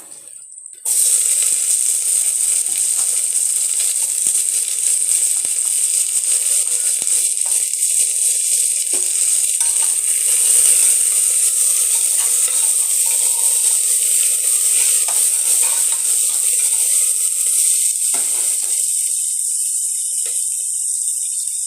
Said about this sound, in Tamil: அடுத்தது பச்சை மிளகா வெங்காயமும் போட போகிறோம்